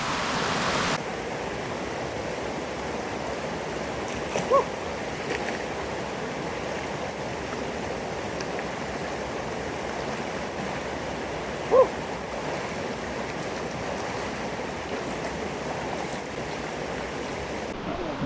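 Water from a creek found along a bikepacking route rushes in a steady broadband wash, continuous and close, with a couple of faint brief knocks.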